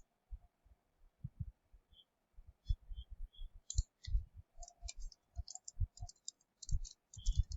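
Computer mouse clicking in software setup, a scattered series of soft, close clicks at irregular intervals over a faint background hum, with no talking.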